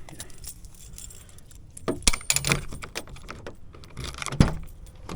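A bunch of keys jangles and clinks close by while being grabbed, in bursts of metallic rattling over a quiet background, with a louder clatter near the end.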